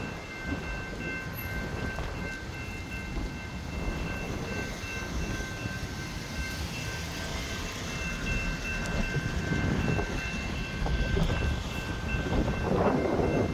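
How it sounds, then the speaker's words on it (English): A Siemens Nexus train passes a level crossing at South Road, Brighton Beach, Victoria: a steady rumble of wheels and cars that grows louder toward the end, with a constant tonal crossing signal above it and no talk. "that's a Siemens Nexus train"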